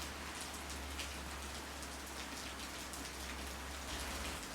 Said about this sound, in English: Anyway, the rain is perfect.